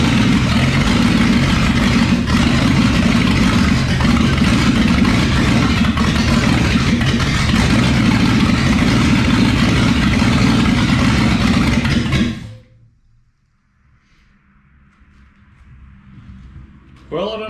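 A Ford FE 360 V8 runs near idle through an open header, a loud, close, rough rumble that holds steady for about twelve seconds and then cuts out abruptly, leaving near silence.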